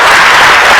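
An audience at a scientific conference session applauds, a dense, loud burst of many hands clapping together that fills the short moment without any talking.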